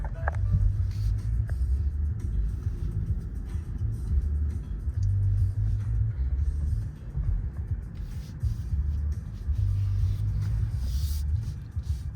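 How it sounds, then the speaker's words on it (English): A 2024 BMW i5 electric car accelerates briefly, giving a low rumbling road and drivetrain drone with pulsing swells, heard from inside the cabin at moderate level. "I just put my foot down on the accelerator for a quick second."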